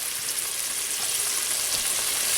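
Oil sizzles steadily in a pan for garlic rice served with Filipino chicken adobo, a close, even, hissing crackle with no talk.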